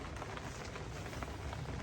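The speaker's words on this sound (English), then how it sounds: "It's raining." Rain falls steadily on a canopy at night, a dense, even patter of drops sounding close and constant with no voices.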